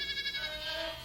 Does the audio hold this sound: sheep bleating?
yes